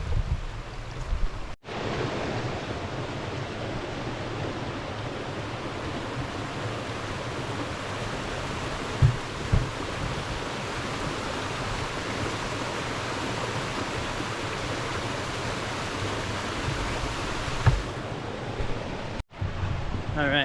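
Slickrock Creek in the Cherokee National Forest wilderness, its water rushing continuously in a steady broadband wash, loud and close, with a couple of faint knocks partway through.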